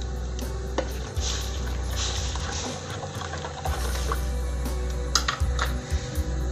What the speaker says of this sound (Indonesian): Kita aduk dulu